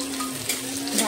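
Diced capsicum, onion and carrot sautéing in a pan for chilli manchurian, a steady close sizzle with faint stirring scrapes and a constant low hum beneath.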